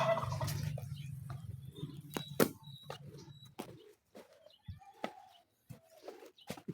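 Three pet turkeys by a house gobbling nearby, a rattling gobble at the start over a low rumbling background, then scattered sharp calls, clucks and knocks with quiet gaps between.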